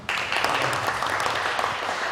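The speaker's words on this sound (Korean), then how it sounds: "뒤에 박수 한번 주시기 바랍니다." A congregation at a Korean mission society's founding thanksgiving worship service breaks into applause almost at once, a dense, lively clatter of many hands that starts abruptly and stays strong and close throughout.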